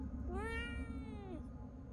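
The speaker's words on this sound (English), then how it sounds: "It was just a cat." A single drawn-out meow from a cat in the horror game Fears To Fathom, rising then falling over roughly a second, clear and fairly close above a low background hum.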